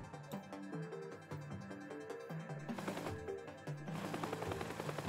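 Rapid gunfire aimed at a helicopter in Teardown, a steady stream of shots under a rhythmic musical backing, growing denser toward the end.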